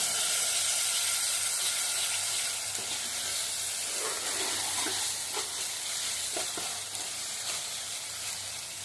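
Ground masala paste frying in oil for a small-fish and raw-mango curry, giving a steady dense sizzle with a few scrapes of stirring, close and continuous.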